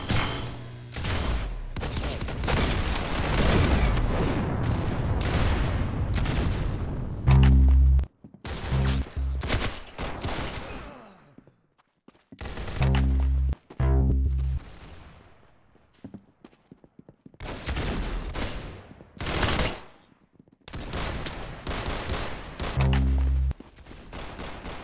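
Rapid bursts of gunfire crack and thud in an Arsenal video game shootout, dense volleys broken by short pauses and single shots, loud and close, mixed with game noises.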